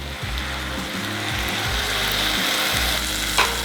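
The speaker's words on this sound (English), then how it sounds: "Just saute all of that together." Basmati rice sautéing in a pan, giving a steady close sizzle and fry with scraping stirs against the pan bottom and occasional low knocks, and no talk.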